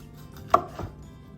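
A kitchen knife cuts through vegetables and sliced orange on a cutting board: two separate, close chops with a sharp thud as the blade strikes, then quiet, and no talking.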